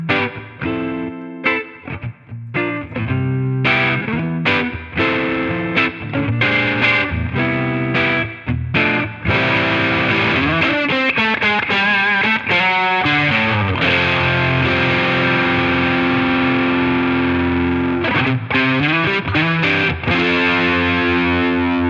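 Electric guitar through a Line 6 Catalyst amp's clean channel with the boost engaged, giving slightly hairy breakup; strummed chords and sustained riffs play continuously and loudly with chorus-like modulation and no talking.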